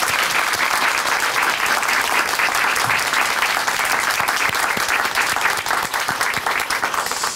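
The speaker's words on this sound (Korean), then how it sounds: "박수로 함께 응원해 드리겠습니다." An audience at a Korean church testimony program applauds, dense, loud and sustained clapping from many people that continues evenly for several seconds with no voices.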